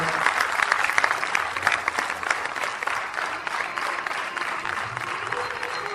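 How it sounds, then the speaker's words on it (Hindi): Loud, sustained applause from an audience at a newspaper edition launch ceremony, dense overlapping claps forming an even roar that tapers slightly toward the end. "हम सब भी जोरदार तालियों से इसका स्वागत करते हैं"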